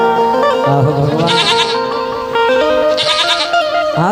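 A goat bleats in wavering, drawn-out cries over a loud, continuous folk song with instruments, the calls recurring through the passage.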